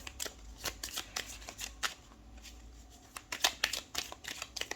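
Tarot cards are shuffled close by in a quiet room, the riffling and slapping coming in quick bursts of crisp flicks with brief pauses, and no voice is heard.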